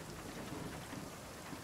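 Rain falls in the survival video game Nightingale, a faint, steady hiss of dense drops that fills the moment evenly with no voices.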